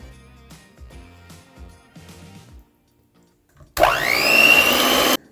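Electric mixer running loud and steady for about a second and a half, beating an egg into peanut butter cookie batter, after a quieter stretch of clinks and bumps.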